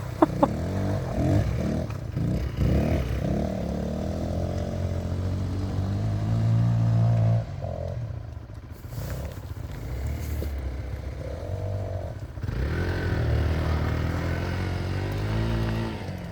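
An off-road vehicle on the Soğucak plateau off-road course revs its engine hard as it crosses water, a loud continuous roar rising and holding with splashing, while onlookers laugh and talk over it.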